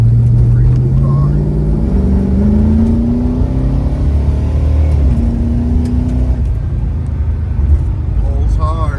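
A 1970 Plymouth Roadrunner with a 440 Six Pack V8 accelerates hard, its engine note climbing steadily through gears with a loud, rough roar heard from inside.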